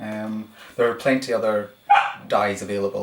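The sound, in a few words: dog barking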